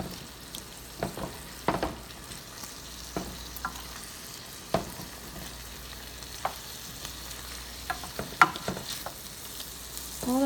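A beef and broccoli stir fry with water chestnuts sizzles in a pan as a thickening sauce heats. There is a low steady frying hiss, with scattered clinks and scrapes of stirring. No one speaks.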